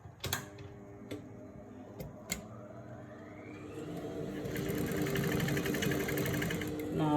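A sewing machine stitching a pant seam, starting with a few sharp clicks and then ramping into a steady, close mechanical whir that builds in loudness toward the end.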